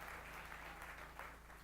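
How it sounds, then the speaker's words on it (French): A church congregation claps loudly and continuously, a steady wash of hand claps with a few stronger swells, heard at a moderate distance without talk. "Applaudissez très fort."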